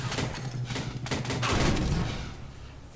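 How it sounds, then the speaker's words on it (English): Rapid gunfire bursts in a Half-Life 2 Deathmatch tournament match, several quick close shots in a fast cluster over three seconds, followed by a fading impact with no talking. "Dallas is just a little bit off that orb and then gets a headshot on Dallas for the second frag of the match."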